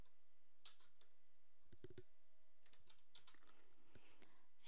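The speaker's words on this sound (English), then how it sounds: "so I'm going to type in Mickey." Light typing on a computer keyboard while entering a search word in design software, a quiet scatter of soft clicks and taps over a faint background hum.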